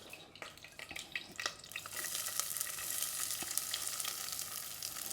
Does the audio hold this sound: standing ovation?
no